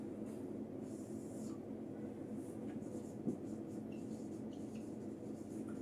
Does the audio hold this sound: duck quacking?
no